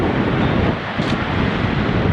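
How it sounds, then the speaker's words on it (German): Wind roars at night outdoors in minus five degree cold at a parking lot, a loud, continuous buffeting against the microphone that barely lets up. "Hier ist es windig, schön."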